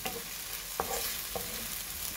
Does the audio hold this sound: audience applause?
no